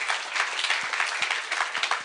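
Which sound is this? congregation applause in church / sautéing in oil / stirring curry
congregation applause in church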